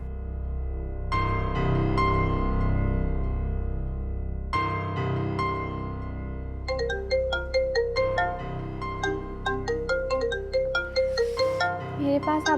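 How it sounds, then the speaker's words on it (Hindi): Ringback tone of an outgoing phone call in a Pakistani TV drama, a loud electronic ringtone melody that repeats in sustained bursts and then shifts into a quicker plucked pattern, with no talking over it. "मैं फ़ोन मिलाती हूँ, तुम छोड़ दो।"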